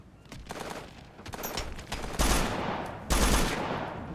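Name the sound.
gunfire in video game Operation Flashpoint: Dragon Rising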